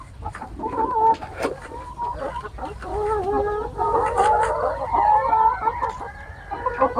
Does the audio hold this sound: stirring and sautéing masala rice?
no